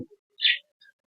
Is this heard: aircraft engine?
no